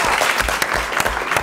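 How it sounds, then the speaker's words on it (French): An audience applauds members of a band after they are introduced at a televised local event. The clapping is dense and continuous, close and fairly loud, with sharper individual claps standing out. "Ils sont là, on peut les applaudir."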